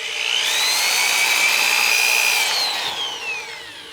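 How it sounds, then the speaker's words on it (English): A power drill sands the surface of a turned wooden utility box, its loud, close whine rising and holding steady for a few seconds before winding down, with no voices. "right now I'm just feathering that drill back and forth, trying to smooth out the surface"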